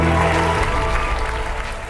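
Audience applause in a reality dating show studio, a loud dense wash of clapping that starts with some low music or murmur and continues steadily to the end.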